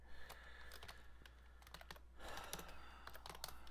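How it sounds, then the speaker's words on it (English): Typing on a computer keyboard during a live editing session, a quick, uneven patter of close key clicks that runs without pause and carries no speech. "Today I am going to type"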